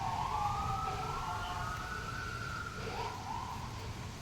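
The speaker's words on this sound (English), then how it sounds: "Sorry for the fire engines." Fire engine sirens wail in the distance, a faint rising and falling tone sweeping across over wind and background noise.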